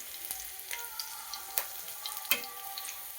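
Ginger sizzles in a pan of hot oil while cooking a brinjal curry, a close, steady crackle with occasional sharper pops and stirring scrapes, no talking.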